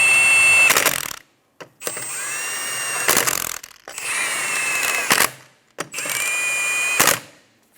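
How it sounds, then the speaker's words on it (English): Power tool spinning lug nuts tight on a 2007-2012 Nissan Altima wheel: four loud, whining bursts of about a second each, separated by brief silences, ending in sharp impact rattles, close and alone. "Tighten them down. Be sure to go in a star pattern so the wheel sits square."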